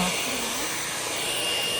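A cordless vacuum cleaner drones loudly and steadily while vacuuming a home floor near a sofa, a constant broadband whine with no pauses.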